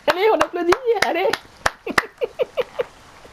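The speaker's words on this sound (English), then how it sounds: "Allez, on applaudit, allez." Brief scattered hand claps from a small group of characters in The Witcher 3 video game, a few sharp claps following a stretch of talking at the start.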